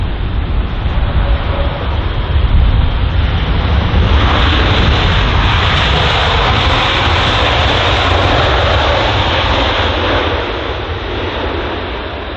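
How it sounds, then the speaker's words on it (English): Boeing 787 Dreamliner of Indian Airlines arriving at London Heathrow after a flight from Delhi, its engines giving a loud, steady broadband roar that holds for the whole stretch and eases slightly toward the end. "here is the Indian Airlines 787 Dreamliner, just arrived from Delhi on its 9-hour and 10-minute long flight"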